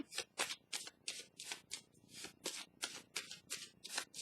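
Tarot cards handled and shuffled at a table during a reading, a fast, steady run of crisp papery flicks and riffles, close and fairly quiet, with no voices.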